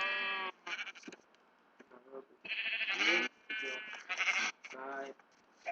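Sheep in the farm video game Farm Hunt bleat repeatedly in loud, wavering calls, several in quick succession with short gaps, heard clearly at close range.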